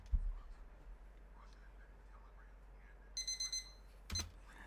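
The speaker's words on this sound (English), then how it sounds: "An alarm clock that makes a noise when it gets an idea." Cartoon alarm clock character ringing when it gets an idea: a brief bright jangling ring in several quick pulses, then a short sharp chime, faint over a low background hum.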